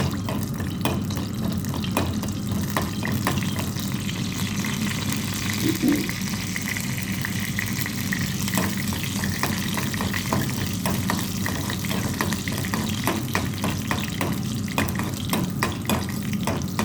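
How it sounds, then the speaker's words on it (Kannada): Mustard seeds splutter and pop in hot oil, a steady sizzle with rapid crackling bursts throughout, faint speech mixed in underneath. "ಚಟ ಆಗ್ತಾ ಇದೆ ಸಾಸಿವೆ ಕಾಳು"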